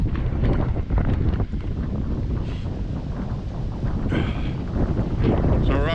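Wind buffeting a microphone outdoors on a walk, a loud, constant rumbling roar throughout, with someone talking underneath it.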